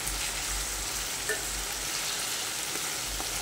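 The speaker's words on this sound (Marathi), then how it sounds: "कांदा हा छान लालसर भाजू देऊया।" Chopped onion frying with cumin seeds in hot oil, a continuous close sizzle with light stirring sounds and no talking.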